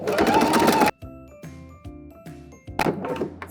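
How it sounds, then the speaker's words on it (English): Zigzag stitching along a dress seam edge runs briefly and loudly on a sewing machine. It gives way to a few separate mechanical clunks and ticks, then the whirring starts again near the end. "we're just zigzagging it so it doesn't fray anymore"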